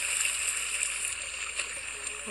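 Water runs steadily in a video game scene, a continuous hissing stream with faint splashing. It stays constant and fairly close throughout.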